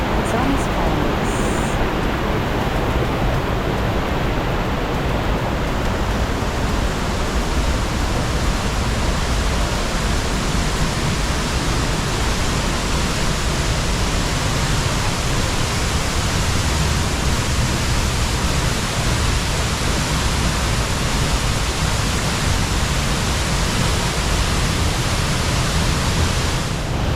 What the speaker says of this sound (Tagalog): And I present Lanzones Falls.